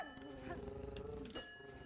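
Bells chiming in the Silksong video game, sustained ringing tones with a bright onset near the end, faint and continuous over a low background.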